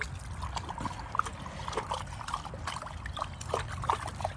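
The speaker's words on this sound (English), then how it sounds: "I am going to stir this pot for 1 hour" Liquid being stirred in a pot by hand, a quiet continuous swirl and trickle with small splashes and clinks, faint and close with no talk.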